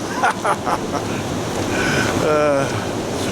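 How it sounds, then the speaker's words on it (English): Strong wind buffets the microphone on a country walk along a trail outside a Derbyshire village, a loud rushing roar under brief bursts of a voice. "Oh, hark at that wind!"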